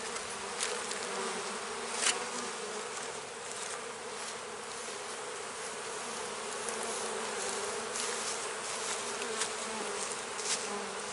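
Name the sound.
honeybees buzzing around a hive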